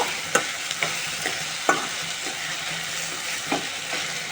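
Green pea curry with tomatoes fries in oil with a steady sizzle, punctuated by several sharp spoon taps and stirring scrapes against the pan.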